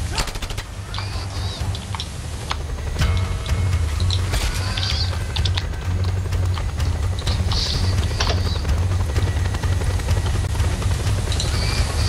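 A helicopter in the video game Just Cause 2 drones steadily and loudly throughout, with bursts of gunfire and sharp impacts layered on top.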